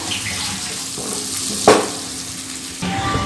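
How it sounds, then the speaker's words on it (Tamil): Bitter gourd frying in a pan over a low-medium flame gives a steady, soft sizzle, with a brief stirring scrape in the middle and a slight rise near the end. "இது அப்படியே லோ டு மீடியம் ஃப்ளேம்லேயே வச்சுக்கோங்க பாகக்காய் வந்து கொஞ்சம் அப்படியே சுருண்டு வதங்கி வரணும்"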